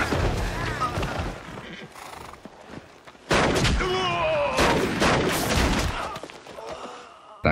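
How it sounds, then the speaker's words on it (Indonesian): A gunfight in a film: rapid shots crack out amid dramatic music, with a horse whinnying and loud bursts of fire toward the end. "Kembali terjadi tembak-menembak."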